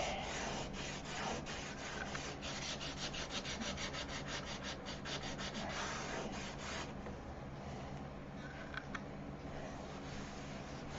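Sandpaper rubs over a painted surface gritty with overspray, making a loud, close, steady scratchy hiss. Quick back-and-forth strokes run through the first half, then give way to smoother, continuous sanding.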